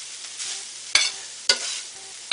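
Ground beef browning in a pan gives a steady soft sizzle, broken by a few sharp scraping stirs of the spatula.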